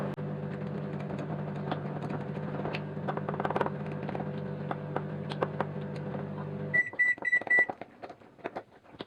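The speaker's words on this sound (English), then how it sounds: "pop it back in the microwave." A steady low mechanical hum of a microwave oven heating homemade jam runs for several seconds, then stops; a short series of high electronic beeps follows, with some clatter afterward.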